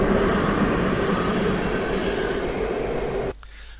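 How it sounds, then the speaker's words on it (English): A train passes close by as a loud, steady rumble with broadband rail noise, holding constant for over three seconds before cutting off abruptly to quiet. "which is a train"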